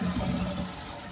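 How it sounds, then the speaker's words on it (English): A toilet in a home flushes with a close, rushing swirl of water that is loudest at the start and eases slightly as it drains, with no voices over it. "I'd like you to flush the toilet and see."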